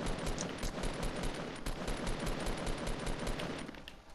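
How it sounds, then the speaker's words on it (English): Sustained rapid gunfire in a shooter video game near a fort, a loud continuous automatic rattle with overlapping shots filling the whole stretch, fading slightly at the end, with almost no talking. "You're shooting at that fort or what?"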